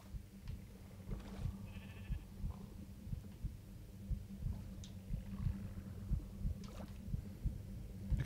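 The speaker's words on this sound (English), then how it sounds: "Kind of dig the heartbeat sound of the conduit." A conduit block in Minecraft gives off a soft, low, rhythmic heartbeat-like pulse, steady and quiet throughout, with faint game sounds scattered on top.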